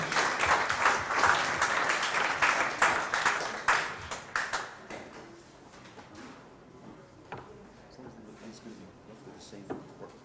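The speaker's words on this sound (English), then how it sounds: "please give a very, very, very warm round of applause for all of yourselves for being here today" Conference audience at a Blackmagic Design expo session in Kenya giving a warm round of applause, several seconds of steady clapping that fades to scattered claps and quiet room noise.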